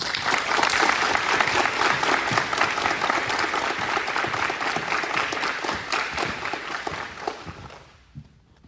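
Audience applause for a cadet receiving participation and community service ribbons at a ceremony, sustained clapping from a crowd that stays steady for most of the stretch, then thins out and fades near the end.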